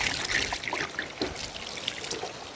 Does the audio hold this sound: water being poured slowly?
yes